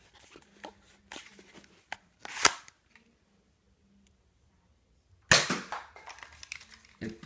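A modified Nerf Sharpfire blaster fires a single sharp snapping shot after a brief mechanical click and a quiet pause, close and loud, followed by faint rattling.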